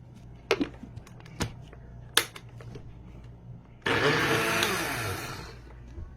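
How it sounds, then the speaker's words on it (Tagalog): A blender whirs loudly and steadily, chopping bitter gourd (ampalaya) and moringa (malunggay) leaves with water, starting abruptly after a few scattered clicks and taps in a kitchen. "I-blender na po natin yan."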